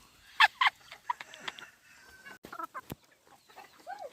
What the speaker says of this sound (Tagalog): Inuhuli nilang dalawa yung itik guys.